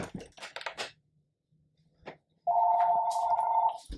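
An electronic telephone rings inside the game Pocket Minecraft, a single bright sustained ring tone lasting over a second after some brief clicking and rustling game sounds.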